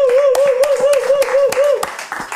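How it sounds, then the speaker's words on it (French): An audience applauding at a French battle show, steady close clapping with a held sung or spoken voice running over it. "On applaudit encore pour Dospi"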